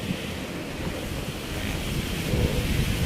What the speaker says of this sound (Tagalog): mahangin, presko ang hangin.